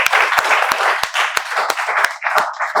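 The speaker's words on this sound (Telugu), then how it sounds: "మీకు స్వాగతాన్ని తెలియజేస్తున్నాం చప్పట్లతో." Welcoming applause from a crowd at a spoken English institute, dense clapping with sharp individual claps standing out, loud and sustained throughout.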